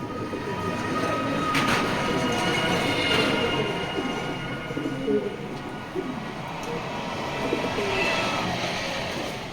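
A male racer pigeon coos repeatedly amid a busy, noisy outdoor background with a steady low rumble, and faint voices may be present.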